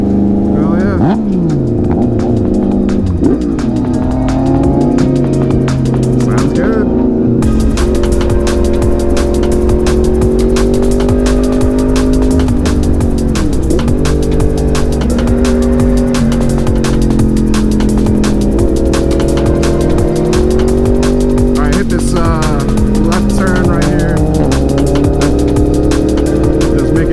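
Yamaha MT-09 and MT-10 motorcycle engines revving loudly and repeatedly close by, rising and falling throttle blips with popping exhaust, under continuous talk.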